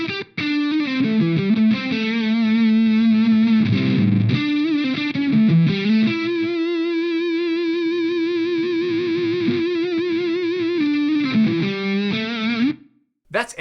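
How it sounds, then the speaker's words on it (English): Fuzz-distorted electric guitar run through an Eventide H9 digital fuzz algorithm with sustain placed before the distortion, playing loud, thick sustained notes and bends, then cutting off abruptly at the end. "I can't believe this is a digital fuzz."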